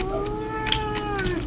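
A tomcat meows once: a long, drawn-out, wavering and fairly loud call with a slight howling quality, heard close up.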